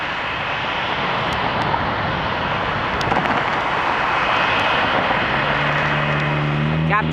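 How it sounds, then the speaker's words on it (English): Hainan Airlines Boeing 787-8 Dreamliner taking off from runway 23 at Toronto Pearson, a loud, steady broadband engine roar filling the whole stretch, with a rising low tone near the end as the jet climbs away. "there goes the Hainan Airlines Boeing 787 Dreamliner"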